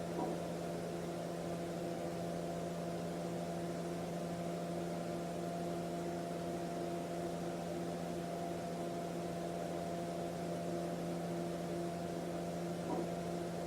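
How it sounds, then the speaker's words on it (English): A steady, faint fan whir with a low tonal hum runs continuously, unchanging and close, with no voices over it. "So you can hear the fan in the background is subtly changing."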